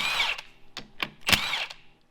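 An impact or power tool buzzes in several short bursts, pulling the cover plate bolts on an Atlas 3.0:1 transfer case in a workshop. Each burst sounds close and loud, with brief gaps between them and no talking.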